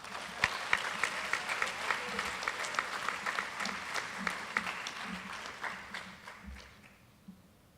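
Applause from the crowd at a high school athletic banquet awards ceremony: a steady roll of clapping with a few sharp nearby claps, continuing for several seconds before fading out.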